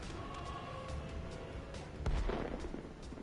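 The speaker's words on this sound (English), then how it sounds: "That was a nasty explosion." A booming blast in a golf video game, a sudden low burst midway through that lingers briefly over a steady background of game ambience.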